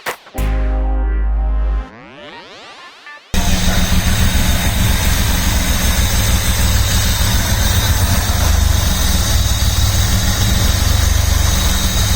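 A V6-swapped Mazda MX-5 idling just after its first start, a loud, steady, close engine rumble that follows a brief electronic musical sweep at the start.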